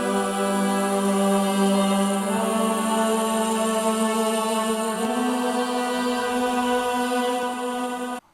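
A layered music passage built from an M-Tron, with Ethera vocals and woodwind, plays as dense, sustained harmonic tones. It holds steady and loud with no talking, and stops abruptly at the end.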